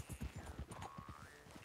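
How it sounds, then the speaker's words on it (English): Horse hooves clip-clop in Red Dead Redemption 2, a quick run of close, distinct thuds slowing down, with a faint tonal whine in the background. "Didn't mean to park my horse right here"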